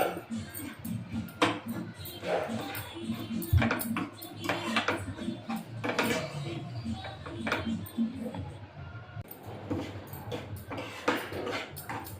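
A spoon scrapes and clatters against a pan as a jaggery and milk sweet mixture for sunnundalu is stirred, with steady irregular scraping and clinks throughout, close and moderately loud.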